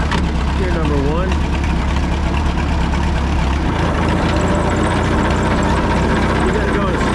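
A 1951 Cletrac Oliver HG42 crawler dozer engine runs loud and steady at close range, a dense continuous mechanical roar with a brief rising pitch early on, the crawler set in first gear.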